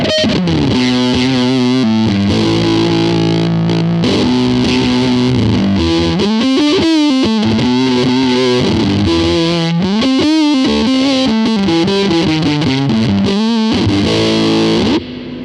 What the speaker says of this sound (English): We've got distortion then. We've got the Big Pig.